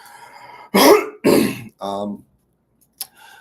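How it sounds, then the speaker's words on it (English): Three short, forceful coughs or throat-clearing bursts in quick succession, close and loud, followed by a brief click and quiet. "I might be coughing a little bit more than usual"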